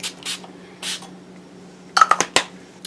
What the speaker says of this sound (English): The setting spray is from Wet n Wild.